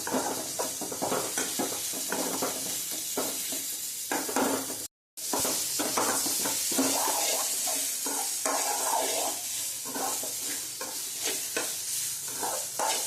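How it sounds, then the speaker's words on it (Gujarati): Radish leaves with chili powder stirred in hot oil, a loud close sizzle with repeated scraping stirs of a spoon against the pan, broken by one brief silent gap. "આને આપણે આની અંદર ખખડે નહીં ને ત્યાં સુધી આને આમ ફેરવતા ચોળવવાનું"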